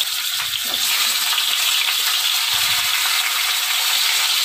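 Khoira fish frying in hot oil in a pan: a steady, bright, hissing sizzle holds throughout with faint low knocks, loud and close, with no talking.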